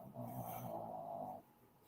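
Happy, a pet, snores in a low rumbling breath that runs for over a second and then trails off into quiet, faint and close by, with no talking.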